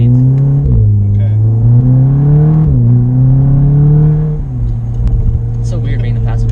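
Stage 2 Volkswagen Golf R with a downpipe and resonator delete, heard from inside the car while driving, its engine and exhaust droning loudly and rising in pitch through repeated acceleration pulls with gear changes, while people talk under it.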